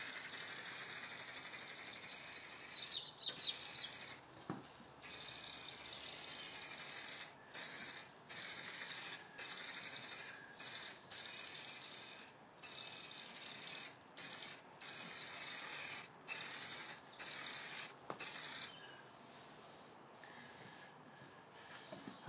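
An aerosol spray paint can sprays in a string of short and longer hissing bursts with brief pauses between them, close and fairly loud in a quiet room, painting model railway track.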